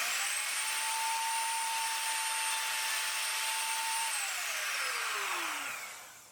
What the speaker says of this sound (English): The holes have been drilled, evenly spaced, both horizontally and vertically.